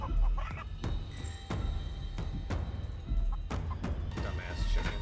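A cartoonish chicken in the Chicken Feet video game squawks and honks in short bursts, mixed with thuds and game effects while someone talks over it.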